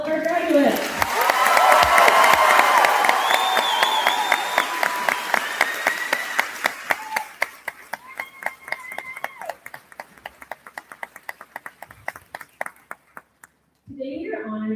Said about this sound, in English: let's have one big more round of applause for all of our graduates